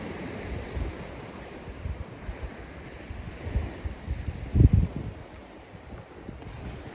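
Sea waves wash against the shore in Crimea near a seaside house, a constant surging roar mixed with wind buffeting the microphone, with a heavier crash of surf swelling midway.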